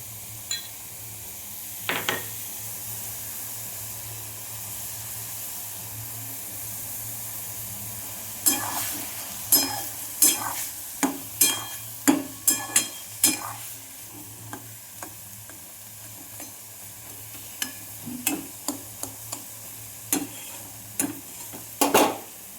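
Food fries in a wok over a high gas flame with a low, steady sizzle. A run of sharp clacks from a spatula stirring against the pan starts about a third of the way in and comes back in bursts, with no voices.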